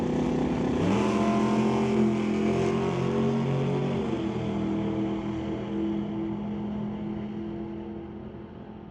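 A 2003 Chevy S10 pickup roars off the line in a street-legal drag race at Mission Raceway Park, its engine note climbing sharply through gears, loud and close at first, then fading steadily into the distance.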